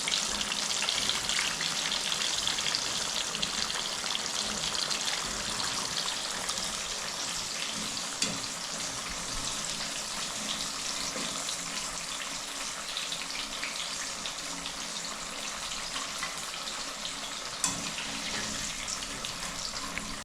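Samosas fry in hot oil, a steady crackling sizzle that holds at an even level throughout with a few sharper pops, close by and with no voices.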